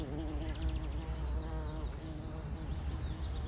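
Steady insect buzzing, several wasps droning close by with shifting pitch, continuous throughout over low background rumble.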